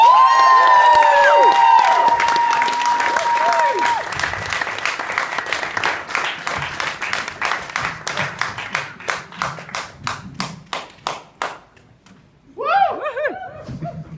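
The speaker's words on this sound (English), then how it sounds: "please give the biggest applause you can for Dylan Watts!" An audience claps and cheers for a performer. A voice rings out over loud crowd applause at the start, then the clapping thins into a few sharp, spaced claps before a voice begins speaking near the end.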